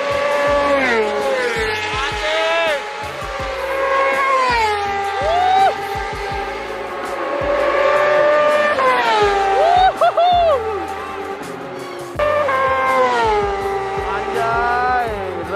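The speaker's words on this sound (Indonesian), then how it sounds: "deras-deras banget motornya" 600cc super stock racing motorcycles speed around a track in Indonesia, with loud, high-revving engine wails that climb and drop through gear shifts as several bikes pass close by in overlapping waves.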